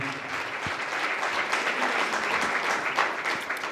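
An audience at a women's empowerment seminar in Dhar applauds the musicians, a dense, sustained round of clapping at an even level from start to finish, with no voices.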